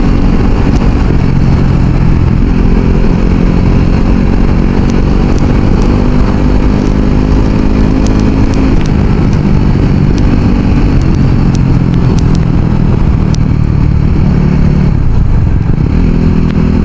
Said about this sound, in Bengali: সকাল সকাল বাইক রাইড করতেছি